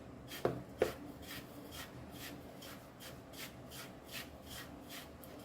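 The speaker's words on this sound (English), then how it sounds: "Now we'll add salt in this, Rava, and mix this." Recheado masala being mixed by hand with salt and rava for Goan stuffed mackerel, a soft repeated rubbing and scraping rhythm after two sharper knocks, faint and close.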